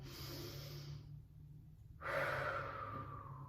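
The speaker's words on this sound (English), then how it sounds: "Deep breath in. Exhale." A slow, deep breath in and out during a Pilates stretch, soft and close with quiet room noise, and the exhale swelling louder after a short pause.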